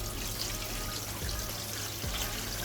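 Water is poured steadily over a metal roof panel and an asphalt shingle roof section, making a continuous splashing, rushing wash at an even level throughout with no talk.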